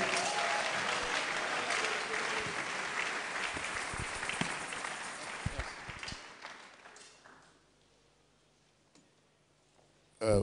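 Church congregation applauding at a French-language evangelical Sunday service, sustained dense clapping for about six seconds that thins into scattered claps and fades to near silence, with a sudden loud burst at the very end.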